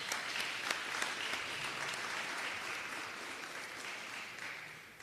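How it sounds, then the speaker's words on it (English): Sustained applause from a seated audience at a students' recognition ceremony, steady and fairly loud throughout without a break, with scattered sharper individual claps standing out. "all of you deserve a round of applause"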